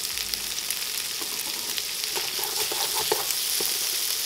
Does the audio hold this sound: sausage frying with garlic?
yes